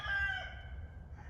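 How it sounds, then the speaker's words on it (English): A single rooster crowing outdoors in a backyard with his small flock of hens, one clear crow that tails off, heard at moderate distance. "We got one little rooster and his posse of hens."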